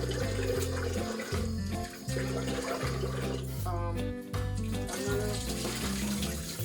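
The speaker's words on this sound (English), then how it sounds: "Let me start washing the saltfish." Tap water runs continuously over salt fish being washed in a container, a steady close splashing rush that plays over background music.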